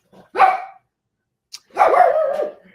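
A puggle, a mostly pug dog with a little beagle, gives two close, loud barks separated by a short pause, the second one longer and drawn out, with no talk over them.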